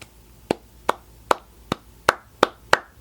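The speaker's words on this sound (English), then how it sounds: "Everyone knows clapping is so 20th century." Sharp hand claps at an even pace, eight of them over about three seconds, loud and close with nothing else heard.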